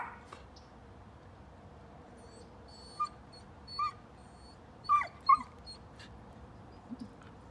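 Faint, high dog whines and yips in a quiet indoor room, a few short separate cries coming at intervals, with no talking over them.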